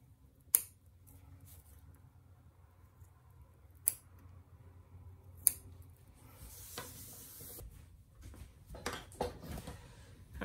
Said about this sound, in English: take your scissors and trim the corners